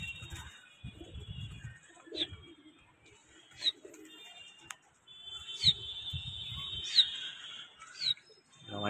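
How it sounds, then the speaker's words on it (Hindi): Domestic pigeons coo softly in short bursts against a faint background, with a few wingbeats and sharp chirps scattered across, heard at moderate distance and no talking. "भाई देख सकते हो वहाँ से भी भाई के कबूतरों को उड़ाया जा रहा है।"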